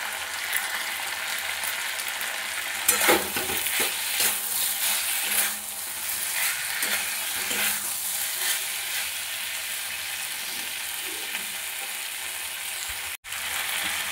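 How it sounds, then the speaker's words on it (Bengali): A curry of egg, cauliflower and potato being stir-fried with salt in a pan produces a constant close-up sizzle, with occasional clinks and scrapes from stirring. "এটা খুব ভালোভাবে কষিয়ে নিয়েছি।"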